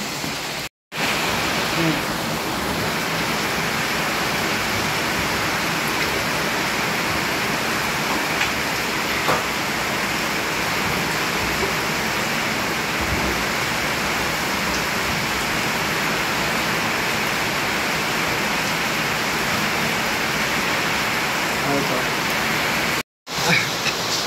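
Heavy rain pours down steadily as a dense, constant hiss that fills the whole clip without a break.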